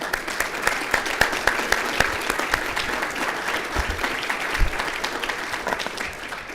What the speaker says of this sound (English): a round of applause for our panel here today